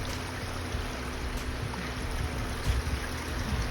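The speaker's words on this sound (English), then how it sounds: "This is the last 500 feet of the waterfall, and you could just feel that nice cold spray coming off." Cold water from a waterfall rushes and sprays in a steady, broadband roar near its base, a continuous hiss with faint surges and no voices.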